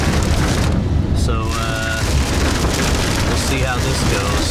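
Heavy rain pours steadily during a thunderstorm at Walt Disney World in July, a loud, dense hiss with a faint low rumble. A voice comes in partway through.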